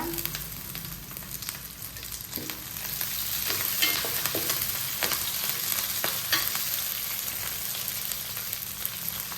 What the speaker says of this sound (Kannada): ಬ್ರೌನ್ ಆಗಿರೋ ಈರುಳ್ಳಿ ನಾನು ಏನು ಹಾಕ್ತೀನಿ ಅಂದರೆ, ತೊಳೆದಿಟ್ಟಿರೋ ಕರ್ಬೇವಿನ ಸೊಪ್ಪು ಹಾಕ್ತೀನಿ ಸ್ವಲ್ಪ